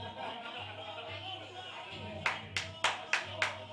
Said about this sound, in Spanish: Ese fuerte aplauso para ellos